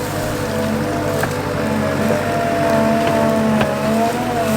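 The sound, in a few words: skid loader digging out rocks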